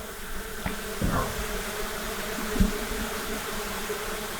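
Honeybees trapped inside a garage wall drone in a steady, continuous buzz, with a couple of brief knocks or thumps along the way and no talking.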